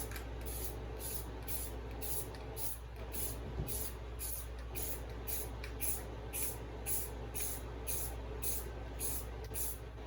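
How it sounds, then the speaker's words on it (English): A steady hiss of spray from an aerosol can of spray adhesive, applied to a car door panel, runs throughout, fairly faint, with no one speaking. "Just gonna give it some light spray right here."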